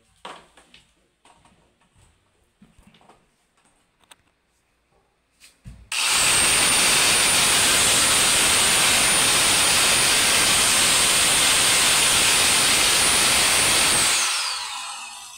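A loud, steady electric grinder motor whines continuously for about eight seconds, then winds down, after a few quiet handling clicks.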